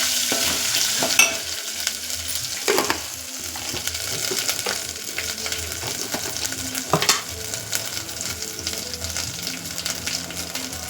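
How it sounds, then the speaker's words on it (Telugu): Curry leaves, ginger and garlic frying in a pan for an egg dish, a steady close sizzle broken by scraping spoon strokes and occasional knocks against the pan, with no talk. "ఇప్పుడు కరివేపాకు వేసుకొని కలుపుకోవాలి."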